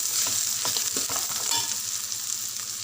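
Onions and cashew pieces fry in a pan with a continuous crackling sizzle and several stirring scrapes in the first half, close and fairly loud, with no voices.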